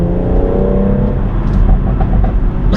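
A BMW M140i with a Cobra Sport GPF-delete exhaust revs loudly and close, a deep droning engine note rising and falling for a few seconds with no one speaking.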